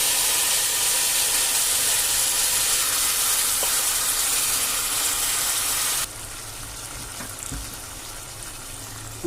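Ginger pieces and seasoning fry in a pan for tamarind rice, giving a steady, loud broadband sizzle that drops abruptly to a quieter hiss near the end.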